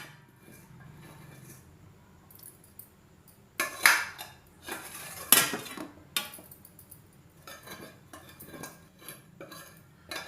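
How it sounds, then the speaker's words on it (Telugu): A spoon stirs tomato curry into browntop millet rice in a metal pot, giving scattered scraping clinks and a few sharper knocks against the rim, close and fairly quiet, with no voices. "ఈ టొమాటోస్ కూరని దీంట్లో కలిపేద్దాం"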